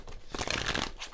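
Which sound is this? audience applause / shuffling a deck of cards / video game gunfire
shuffling a deck of cards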